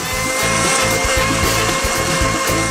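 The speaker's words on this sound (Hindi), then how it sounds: "अब मैं इसे जल्दी से कद्दूकस करने जा रहा हूँ।" Cheese rubbed quickly against a grater in a rhythmic back-and-forth scraping, steady and close, with a continuous hum of background noise.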